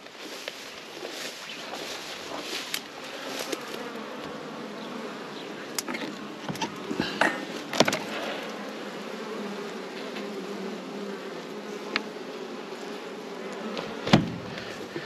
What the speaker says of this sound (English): got a swarm trap up here, and looks like there's bees in there